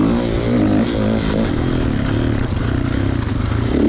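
A 2016 Kawasaki KX450 dirt bike ridden on a course at Hoover Ponds, its engine droning steadily with shifting revs and some clattering, heard close and continuous with no talk.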